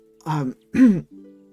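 A woman in a tabletop role-play session clears her throat in a close, voiced rasp, then gives a short cough-like grunt, followed by a brief hummed tone.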